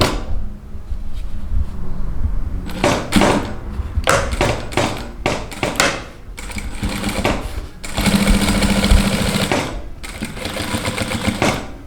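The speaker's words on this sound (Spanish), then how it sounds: "vamos a iniciar con el proceso de costura" A sewing machine stitches a welt pocket in quick, rattling bursts with short pauses between runs, then a longer continuous run of stitching, close and clear.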